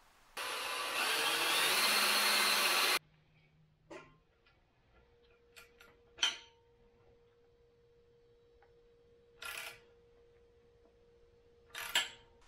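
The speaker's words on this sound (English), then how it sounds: "I'm gonna drill right between these two holes here and tap that." A drill on a Dana 60 axle whirs loudly for about two and a half seconds and then stops, followed by a low hum and several sharp metallic taps and scrapes spaced apart in a quiet workshop.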